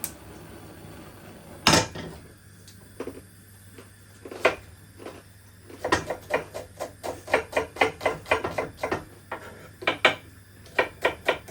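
A metal cooking pot is set on a stove before a mango fish curry is cooked, giving one loud clank followed by a run of sharp metallic knocks and clatters of kitchenware.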